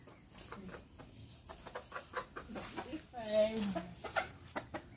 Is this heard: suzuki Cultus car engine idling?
no